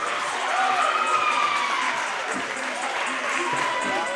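Home crowd applauding and cheering at a men's college volleyball game, a steady wash of clapping with scattered shouts filling the gym.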